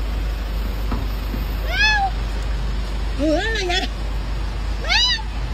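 A cat trapped under a car's hood meows in three distinct rising-and-falling calls, close and clear, while people talk around it over a steady low engine-like hum.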